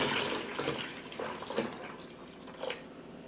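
Milk pours from a gallon jug into a pot on the stove for homemade yogurt, a soft continuous splashing stream with no talking.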